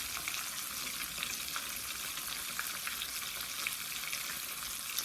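Jalapeño poppers fry in a skillet with a steady, dense sizzle and faint crackling throughout, fairly quiet and close, no voices.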